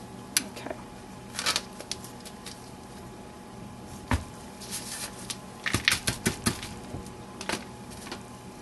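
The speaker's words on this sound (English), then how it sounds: "this is my soap cutter right here. I did get this from Amazon, and it's just an easier way to cut my soap" A soap cutter slices through homemade soap bars, giving sharp wooden clicks and taps with short clustered thuds in a quiet room, faint and close.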